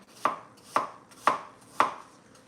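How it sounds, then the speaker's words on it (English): A knife slices apples thinly on a cutting board, four crisp, evenly spaced chops landing about half a second apart, close and clear with no talking. "you can chop them pretty thin with your knife, pretty quickly"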